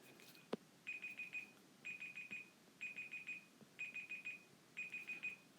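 Digital timer alarm going off in quick bursts of four high beeps, repeated about once a second in a quiet room, preceded by a single soft knock.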